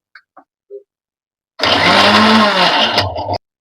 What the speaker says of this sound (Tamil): 2 தக்காளி மட்டும் எடுத்து இப்போ ஜார்ல போட்டு அரைக்க போறேன்